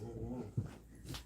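A dog gives a short whimpering vocalization with a brief yip, close by and fairly quiet, lasting about a second.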